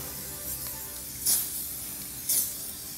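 Two short bursts of lubricant spray hiss onto a CCM Krossport hybrid bicycle chain, about a second apart, standing out over a faint steady background.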